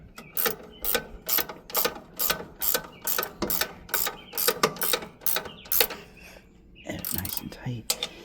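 Hand ratchet clicking in quick, regular bursts while tightening a bolt during setup of a DR brush cutter, close and crisp, with a short pause and a final few clicks.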